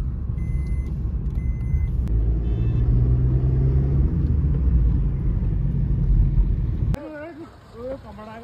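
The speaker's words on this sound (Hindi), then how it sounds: "तो गाइस हमारी तीनों गाड़ी चल चुकी है अब" Three cars, a Thar, a Fortuner and a Baleno, drive along the Sohna–Mumbai highway with a steady loud engine and road rumble, which cuts off sharply near the end as a voice starts talking.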